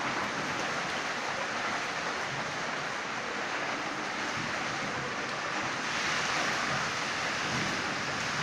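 Rain falls heavily and steadily during a thunderstorm, a dense, unbroken hiss that stays loud and uniform throughout, with no voices.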